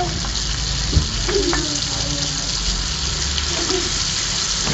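Garlic fries in a pan with a steady, close crackling sizzle, plus a few light clinks and stirring noises.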